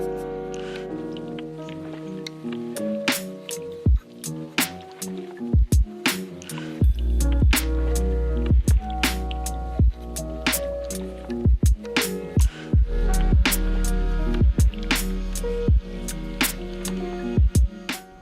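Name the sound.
washing letter drawer compartments with sponge and soapy water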